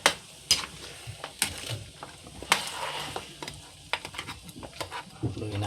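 Pata tim, braised pork hock, being stirred in a cooking pot, with repeated scraping clinks and knocks of a utensil against the pot over a low simmering bubble, close and irregular, no talking.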